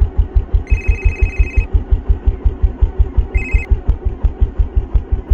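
A telephone rings in two bursts, a long ring then a short one, over a loud rhythmic engine drone that thumps steadily underneath throughout, with no talk.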